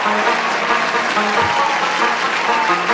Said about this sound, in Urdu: تالیوں سے استقبال کیجیے۔